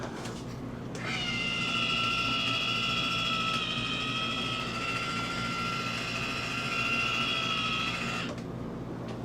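A Dometic RV roof vent fan motor starts after about a second and runs steadily with a whirring hum and high tonal whine for roughly seven seconds, then cuts off, leaving near silence.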